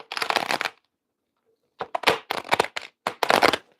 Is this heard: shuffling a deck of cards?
yes